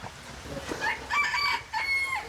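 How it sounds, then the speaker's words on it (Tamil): A two-year-old white Cochin chicken gives a few clucks and crowing-like calls in quick succession, fairly close and clear over a low background. "இது 2 வருஷம் வயது கோழி."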